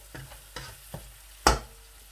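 Spices and masala for maash ki daal stirred in a pan over low heat, four distinct scraping stir strokes, the last loudest, over a faint background with no talk.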